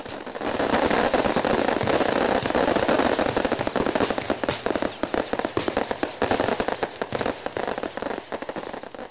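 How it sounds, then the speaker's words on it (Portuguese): Fireworks go off at a Catholic coronation festival in the Amazon town of Cacau Pirêra, a loud, dense barrage of rapid crackling bangs that continues throughout and thins into separate pops toward the end. "Na volta à capela, muitos fogos saúdam os momentos que antecedem a coroação."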